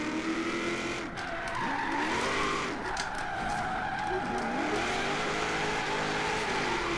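A Nissan 240SX Rocket Bunny engine in Forza Horizon 3 revs and whines with rising and falling pitch while tires screech in a drift, loud and continuous.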